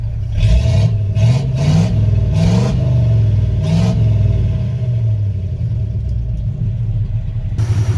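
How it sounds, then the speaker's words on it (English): The engine of a 1972 C30 truck, abandoned on a farm for fifteen years, idles loud and close with a deep rumble and several brief revs early on, then settles to a steady run. "I don't know what it is about this truck, but boy, it just sounds good"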